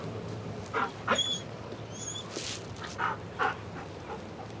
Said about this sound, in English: you always get a response when you hear the dog